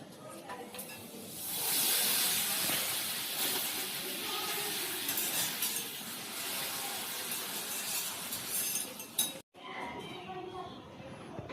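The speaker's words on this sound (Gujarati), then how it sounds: "ઘરમાં ગરમ ચોરાફળી તળાય છે અહીંયા" A steady, loud sizzling hiss of chorafali snacks deep-frying in hot oil, with a brief drop near the end before the crackle resumes.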